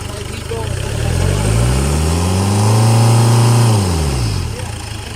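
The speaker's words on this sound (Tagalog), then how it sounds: "naka-andar na yung engine natin" A Ford Everest that has stood unused for over a year, its engine droning loud and close as revs swell up and settle back down.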